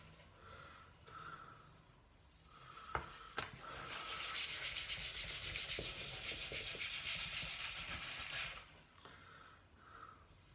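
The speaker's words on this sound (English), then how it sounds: "it's very difficult for me to feel it while I'm actually sanding it" Steady abrasive rubbing of sandpaper on wood by hand, a continuous scratchy hiss lasting several seconds, with a few sharp knocks near the start.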